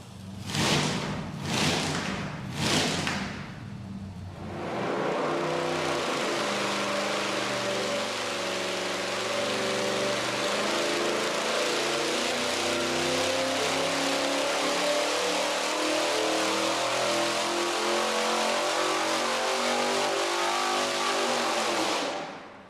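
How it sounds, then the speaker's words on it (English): A naturally aspirated 1000 hp engine fitted with Zoomies exhaust headers cranks in three heavy bursts, then fires and holds a loud, steady, rumbling run with a slight rising and settling of revs, close and uninterrupted. "we're firing up the Zoomies to burn the paint off of them and hopefully shoot fire"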